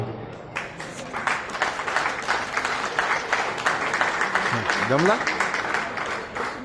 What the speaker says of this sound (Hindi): तालियों की गड़गड़ाहट चाहता हूं।